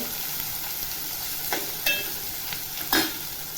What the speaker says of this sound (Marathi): आता कांदा टाकते कांदा टाकल्या चांगला असं परतून घ्यायचं